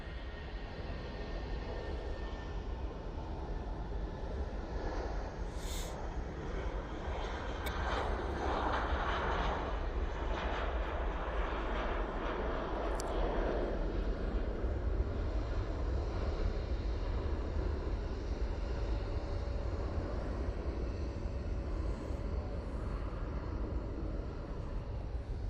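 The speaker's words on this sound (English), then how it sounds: "This is a 319 going off to London, mate." An Airbus A319 airliner departs Manchester Airport for London, a loud sustained jet engine roar with heavy low rumble and a rising whine that swells midway, steady for over twenty seconds, alone with no talk.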